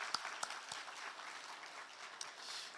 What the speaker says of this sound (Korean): 박수 한번 보내주시기